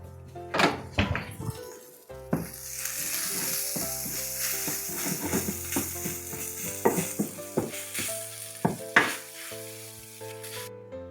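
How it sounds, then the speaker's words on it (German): Tomato paste sizzles and fries in a pot while a spoon stirs and scrapes through it, giving a constant hiss with repeated knocks and scrapes against the pot. "Das darf nämlich auch ein bisschen mit anbraten für die Röstaromen."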